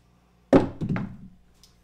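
Craps dice are thrown and land with a sharp thunk, then tumble in a few quick knocks and taps that fade over about a second, close and alone.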